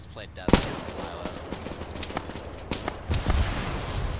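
Gunfire in the military shooter Arma, with sharp shots and bursts cracking over a dense rumbling background, one loud report near the start and scattered shots after.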